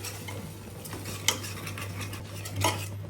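Yogurt stirred into mutton masala in a metal pan, with spoon-on-pan scrapes and a couple of sharper clinks around the middle and end over a steady low hum, moderately close and fairly quiet.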